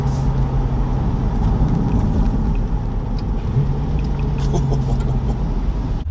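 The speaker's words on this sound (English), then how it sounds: "Exhaust is so vocal at every stage." A 2020 C8 Corvette Stingray 2LT's exhaust drones loud and steady while driving, with a low sustained engine tone that shifts pitch partway through and no talking over it.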